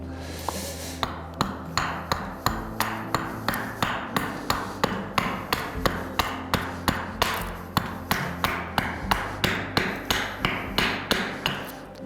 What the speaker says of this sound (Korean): 자, 본격적으로 도끼질을 들어가 보겠습니다